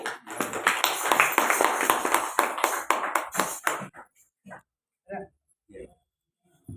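Crowd of worshippers clapping along during an aarti at a Ramayana katha gathering, a dense rhythmic burst for about four seconds, then a few scattered isolated claps, with voices mixed in.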